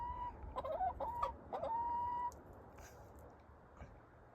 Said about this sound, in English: We got at least one chicken brave enough to come outside